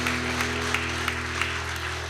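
Audience applause at a school gathering in Dodoma, a dense, steady wash of clapping held throughout at moderate loudness over a constant low electrical hum.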